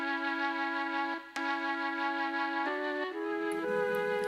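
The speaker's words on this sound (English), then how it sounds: "these are Melotron flutes, not sampled Melotron, but the real deal" Real Mellotron flutes in two voices play a few sustained breathy tones, shifting pitch in steps near the end, soft and alone.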